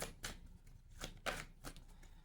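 Tarot cards are shuffled close by in a quiet room. Several quick riffling bursts come at an uneven rhythm, each a soft papery flutter, with no speech over them.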